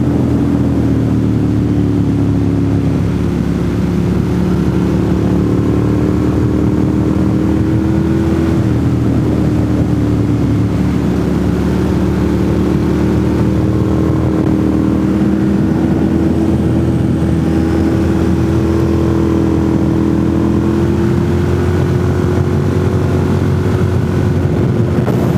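Motorcycle engine noise on an open road, a steady droning hum with shifting pitch that holds for the whole stretch, heard close up from the rider's position with wind rush and no talking.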